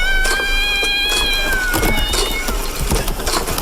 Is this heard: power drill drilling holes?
no